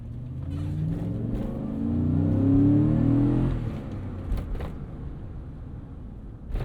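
A healthy 5.3L V8 in a 2013 Chevrolet Avalanche GMT900 truck runs with a low, steady drone that swells to a louder hum midway, then settles back, heard from inside the cab.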